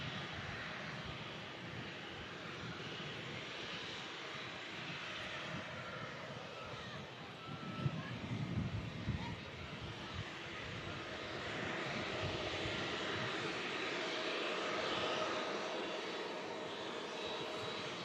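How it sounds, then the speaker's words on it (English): An Atlas Air Boeing 747 departing Manchester, its four jet engines giving a broad, continuous roar at moderate distance that swells toward the end, with brief rumbling gusts midway and no speech. "Another 747 departing soon."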